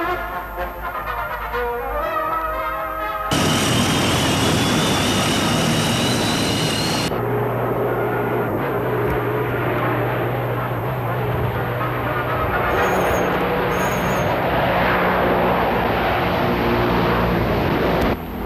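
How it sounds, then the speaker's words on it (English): A Tu-142 Bear, the long-range Soviet maritime patrol aircraft, gives off a steady, droning engine roar that holds throughout, with a brief harsher rushing surge partway through and faint tonal whines over the hum. "the acquisition of Tu-142, the long-range Soviet maritime aircraft known in the NATO as the Bear."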